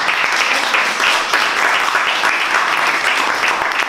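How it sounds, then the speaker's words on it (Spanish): Audience applause at a Latin American cultural association event: steady, dense clapping from a room full of people, close and continuous for the whole span without speech on top. "un aplauso para ellos"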